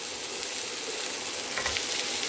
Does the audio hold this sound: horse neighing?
no